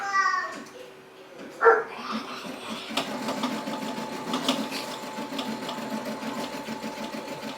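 A home sewing machine spins a bobbin winder, pre-winding all-purpose regular thread for embroidery bobbins, a steady whirring hum starting after a brief clatter and running on continuously close by.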